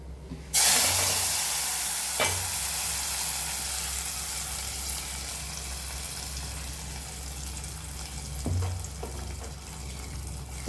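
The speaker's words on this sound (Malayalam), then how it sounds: "അതിലേക്ക് ഒഴിച്ചു കൊടുക്കാം കടുക് പൊട്ടിച്ചത്" Hot mustard seed tempering poured into a Malappuram-style Kerala curry sets off a sudden loud hissing sizzle that holds steady for about ten seconds, close up, with a couple of faint knocks and no speech.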